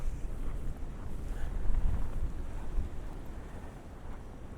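Strong wind in a Toronto winter snowstorm roars and buffets the microphone in gusty low rumbles, swelling and easing without pause, with no talk over it.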